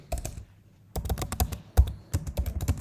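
Python code being typed on a computer keyboard: close, crisp keystrokes in quick bursts, separated by short pauses.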